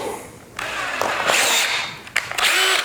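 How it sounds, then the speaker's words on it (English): A power drill whirring and grinding in short bursts as the bit bores through a shoe, close and loud, with brief pauses between runs. "So not going to protect you against drill bits."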